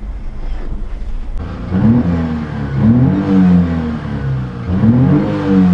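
A mini-truck with a bigger intake and airbox mod accelerates on a test drive, its engine note rising and falling in repeated revving sweeps, close and fairly loud over road rumble.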